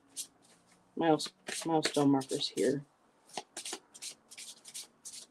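Tarot cards shuffled by hand in quick, crisp riffling bursts, close to the microphone, with a person speaking over the first half.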